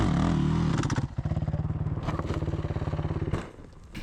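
An enduro dirt bike engine labors over rocky ground during hard enduro riding, a loud close pulsing thump of the single cylinder with clatter and scraping, then cutting back near the end.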